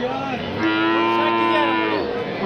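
A cow at a livestock market gives one long, loud, drawn-out moo close by, lasting a couple of seconds with no talking.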